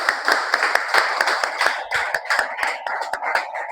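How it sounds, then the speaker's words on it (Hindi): A small group claps for newly arrived guests at a Hindi-language gathering, the individual hand claps distinct and rhythmic, close and moderately loud, with no talking over it. "इनके लिए एक बार जोरदार तालियां होनी चाहिए।"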